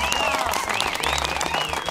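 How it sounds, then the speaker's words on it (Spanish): Studio audience applause on a live morning television program, a dense, steady wash of clapping that fills the whole two seconds, with whistle-like tones gliding over it. "¡Aplauso, no le hicimos!"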